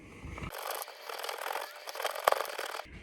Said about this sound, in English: let's grate this cheese